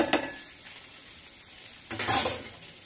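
Dried prawns frying in oil in a pan, stirred with a utensil: a steady soft sizzle with two louder bursts of scraping and clinking, one at the start and one near the end, no voices.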